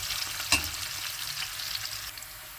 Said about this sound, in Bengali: এই যে পেঁয়াজ ভাজা হয়ে গেছে